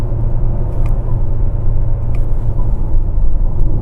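Mercedes-Benz Vito panel van engine in sport mode after a paddle-shift downshift, a loud, steady low rumble with road noise filling the cabin throughout, no voices.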